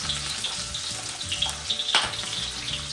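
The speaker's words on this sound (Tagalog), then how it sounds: "Ito, magigisa na tayo ng yung bawang." Garlic sautés in hot oil in a pan, a steady close sizzle with scattered crackles and a sharper scrape or clink midway.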